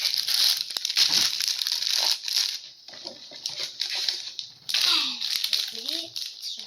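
A crinkly plastic candy bag rustles and crackles loudly up close, with sharp crunches and a brief child-like voice sliding in near the end.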